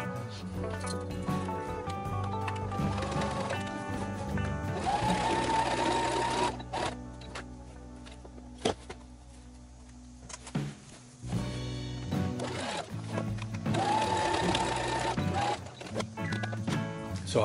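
A sewing machine straight-stitches the seams of a Jedi robe. Long, close, steady runs of rhythmic whirring are separated by a quieter stretch of handling clicks and rustles, with faint talk in the background.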